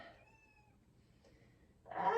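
A cat gives one soft, drawn-out meow indoors during a home yoga session, followed by a short silence and then a louder, broader burst of sound.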